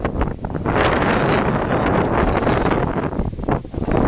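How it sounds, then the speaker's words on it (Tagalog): Strong wind roars continuously and loudly across the microphone in Tacloban, Leyte, Philippines, buffeting it with gusts and no pauses. "Ito po ay sign po na malakas ang hangin."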